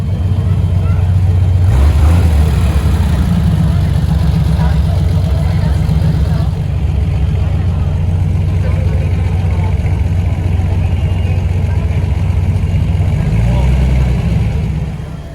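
Engines of an air-cooled Porsche 993 and a water-cooled car idle and rev as they leave an elevator, a loud, steady low rumble with a brief throttle swell early on and a fade at the end.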